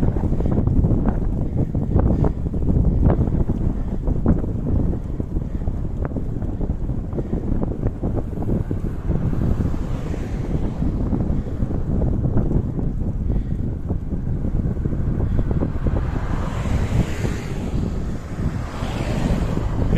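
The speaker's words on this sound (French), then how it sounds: "Ah, le vent, c'est terrible." Strong wind buffets and roars steadily across the microphone, a continuous low rumble with gusty surges throughout, no voices.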